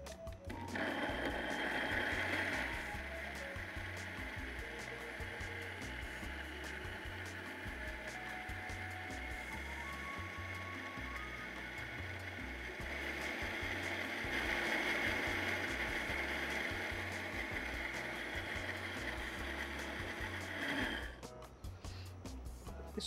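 A blender beats rice dough with salt and yeast for gluten-free pizza, a steady loud motor drone with rhythmic pulsing that runs unbroken for about twenty seconds, then cuts off.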